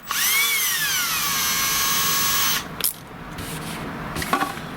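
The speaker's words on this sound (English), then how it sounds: "I use a tiny drill and I drill the pilot hole sort of where I want it" A small power drill whirs steadily at a high pitch for about two and a half seconds, drilling a pilot hole in fiberglass on a model jet build, then stops, followed by a few light handling clicks.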